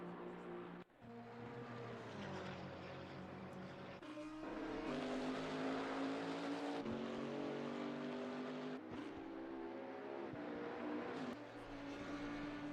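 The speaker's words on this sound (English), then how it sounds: "Loving the Camaros here on track." Camaro GT4 race cars at Brands Hatch in Assetto Corsa Competizione roar around the track, engines revving and shifting through gears in a steady, loud drone with pitch rising and falling, and no talk.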